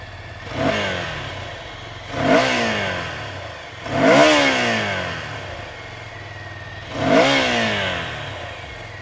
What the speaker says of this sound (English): So now that you've heard what this exhaust sounds like